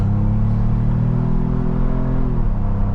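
A Ford Bronco with a six-cylinder engine accelerating, a loud steady engine drone heard from inside the vehicle, rising slightly before easing off near the end.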